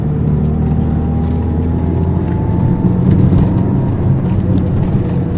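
A Seat Ronda Crono's engine drones steadily from inside the car while driving twisting country roads in Galicia, a constant low hum with a slight rise partway through, no talk.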